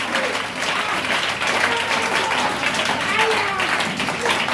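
A church congregation applauds in a dense, continuous wash of clapping that holds steady and loud throughout, with voices and cheers mixed into the crowd noise.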